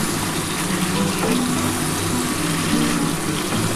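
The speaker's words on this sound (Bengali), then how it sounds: "তারপর কিন্তু আমি জল দিয়ে দেবো" Water streams steadily into a wok of mutton curry with papaya and potato, a continuous close gushing pour lasting a few seconds.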